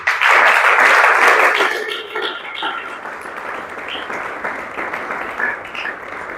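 A church congregation at a deliverance service bursts into loud applause that swells at first, then fades over a couple of seconds into scattered claps and murmuring crowd noise.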